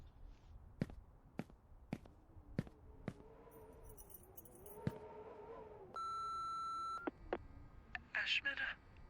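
Phone beeps and key tones in the video game Remothered: Broken Porcelain, a run of sharp clicks followed by a sustained dial tone and a burst of electronic chirps, with a soft voice murmuring in between.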